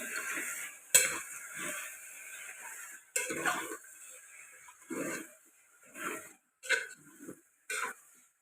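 Goat tripe (boti) stirred in oil in a pan, with a spoon scraping and clinking against the metal in irregular bursts over a faint steady sizzle, close and moderately loud, no talk.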